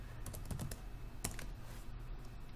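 Close, quiet clicks of a computer keyboard as a Slackware command is typed. The keystrokes come in a quick cluster, then a few scattered taps follow with short gaps between them.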